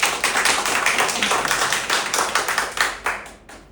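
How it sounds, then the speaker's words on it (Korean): Applause from an audience at a software bootcamp's final project presentation, cheering all the teams: a dense burst of hand claps, steady and fairly close, thinning out toward the end with a few louder separate claps, and no talking. "모두를 위해서 한번 박수 한번 치겠습니다"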